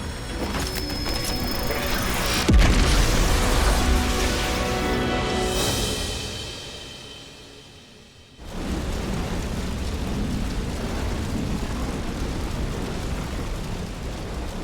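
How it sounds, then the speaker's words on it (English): A loud explosion from a Xenoblade Chronicles 3 cutscene: a sustained roaring, rumbling blast with a sharp hit near the start, fading out before a dense rumbling wash resumes steadily to the end. "Now that was an explosion."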